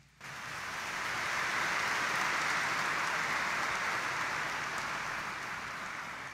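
A church congregation at Sunday mass at Quiapo Church claps together, a sustained, even wash of applause that rises quickly after a brief quiet opening and holds steady, fairly distant and soft throughout.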